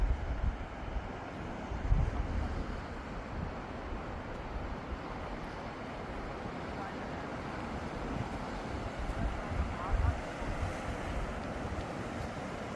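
Mediterranean Sea waves wash along the shore of Northern Cyprus, a soft, continuous surf mixed with wind rumble, faint and steady with a few gusty swells.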